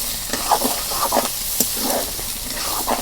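Chickpeas being stir-fried in a pan, a steady close sizzle and hiss with repeated scraping stirs of the spatula at irregular intervals, with no voices.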